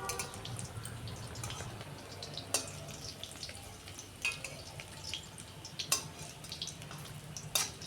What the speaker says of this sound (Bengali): এক্ষেত্রে গ্যাসের হিটটা মিডিয়ামে রেখে আলুগুলাকে ভাজছি